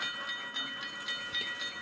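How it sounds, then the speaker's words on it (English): The Phantom Express train from the video game Cuphead rumbles and hisses in a short stretch, with soft rhythmic rail clatter and steamy noise at moderate level and no voices. "There's the Phantom Express from Cuphead."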